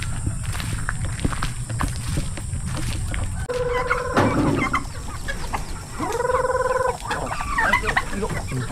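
Chickens clucking nearby amid rustling and scratching on the ground, with a couple of louder squawking calls in the middle.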